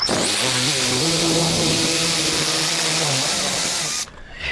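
A middle-of-the-road power drill bit bores steadily through metal with a loud, continuous whine and shifting tone for about four seconds, then cuts off abruptly, leaving a brief quieter tail.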